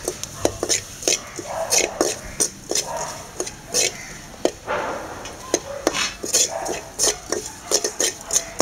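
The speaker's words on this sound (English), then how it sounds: "Stir well." Gram flour being stirred into fried masala in a pan while making chana dal kachori, heard as a run of close scraping and tapping strokes against the cookware, fairly quiet, with no talk.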